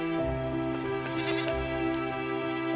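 Cartoon goats and cows bleating in a steady, overlapping chorus of nasal calls, loud and continuous across the whole short stretch.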